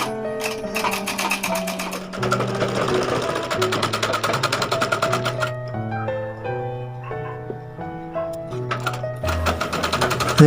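A tailoring sewing machine runs a long straight stitch along a fabric seam, a loud, rapid, even needle clatter that keeps going with brief changes in pitch and pace, close and unaccompanied by talk.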